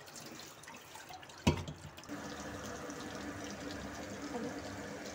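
Water drains from boiled chow mein noodles in a home kitchen, a sudden splash followed by a steady, moderately quiet trickle and dripping that runs on alone.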